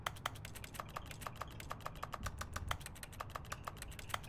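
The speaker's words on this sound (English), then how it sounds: "if you press the action button, it makes a keyboard clack sound" Keyboard clacks from pressing the action button in The Stanley Parable: Ultra Deluxe, a fast steady run of crisp key taps up close, with a low rumble underneath.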